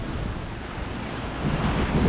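Ocean surf rolls onto a private beach in Baja as the tide comes in fast, a loud continuous wash of waves with heavy wind buffeting the microphone, swelling toward the end.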